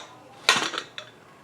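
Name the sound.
opening a pressure cooker after cooking aloo pulao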